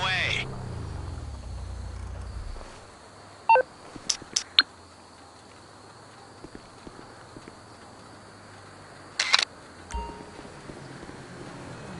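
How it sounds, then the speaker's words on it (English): A phone camera taking a picture in the GTA Online diamond heist: a few short, sharp electronic clicks and beeps, spaced apart over a quiet background hum. "grab a pic of the main door on your phone and send it my way."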